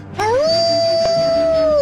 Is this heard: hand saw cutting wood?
no